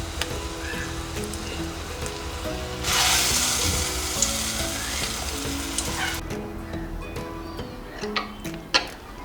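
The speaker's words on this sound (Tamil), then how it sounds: "வடை வந்து நம்ம சுட்டு எடுத்தாச்சுங்க." Lentil fritters for curd vada deep-frying in hot oil, a steady close sizzle that surges loudly midway, then settles into a lighter crackle with a few sharp pops near the end.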